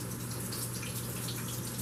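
Tap water runs steadily into a kitchen sink while raw chicken leg quarters are rinsed under it, a continuous close gush with no talking.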